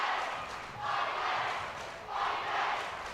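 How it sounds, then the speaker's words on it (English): Basketball fans cheer and chant in a gymnasium at a district tournament game, a loud roaring crowd that swells in two big waves of shouting and stays busy in between. "West Side kind of drowning out the Bear Lake crowd right now"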